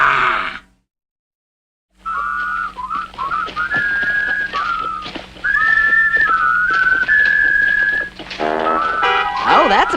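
A cartoon character whistles a bright melodic tune in the Lucky Luke animated series, clear and prominent after a brief silence, with grunting voices and other cartoon sounds around it.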